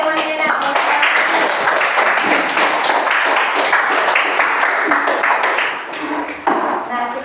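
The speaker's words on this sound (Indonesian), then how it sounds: "Tepuk tangan buat temannya," Classroom students applaud a group that has just finished presenting, a loud, steady burst of many hands clapping close by that thins out near the end, with a voice speaking over it.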